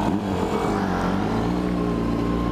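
A car drives past on a street, its engine rising and shifting in pitch as it passes close by, loud and steady with a swelling drone.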